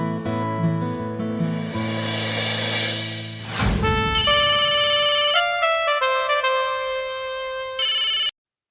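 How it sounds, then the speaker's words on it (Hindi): A telephone rings with a bright electronic ringtone melody in the Hindi sitcom Taarak Mehta Ka Ooltah Chashmah. Repeated tonal bursts follow a whooshing swell and end abruptly, loud and with no voices over it. "1 मिनट, मैं जरा टप्पू को फोन कर लूं।"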